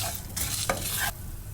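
Cumin, black pepper, coriander seeds and dried red chillies dry-roast in a pan, giving a few soft scraping stirs and a light, quiet crackle over about a second and a half.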